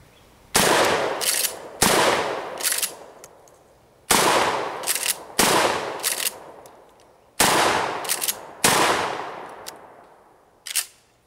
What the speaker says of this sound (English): I'm gonna fire off a couple of regular field loads, then with the low recoil buckshot, and then coming in with the Remington double-aught buck right behind it